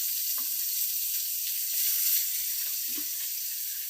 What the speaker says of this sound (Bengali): এটাকে আমি ততক্ষণ ভাজবো যতক্ষণ না এটি একটি গোল্ডেন ব্রাউন কালার চলে আসছে